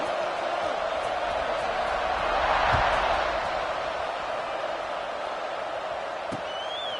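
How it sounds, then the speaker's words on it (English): Stadium crowd noise from a College Football 26 game, a steady dense roar that swells briefly before a kickoff, continuous and fairly loud throughout. "this crowd is buzzing after that last score"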